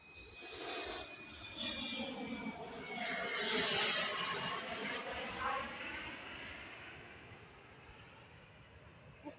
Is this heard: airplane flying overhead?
yes